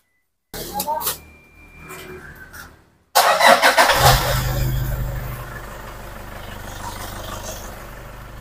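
A diesel car engine after fuel-system purging with a hand-pumped mineral-bottle rig: brief mechanical sounds and a short crank, then the engine catches and settles into a steady, close, loud idle.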